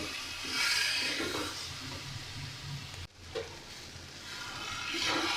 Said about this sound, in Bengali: তারপরে জল দেব।